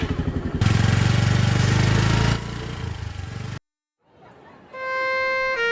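A motorcycle engine runs close by with a loud throbbing, pulsing drone that drops in level partway through and then cuts out. A steady electronic tone pattern follows.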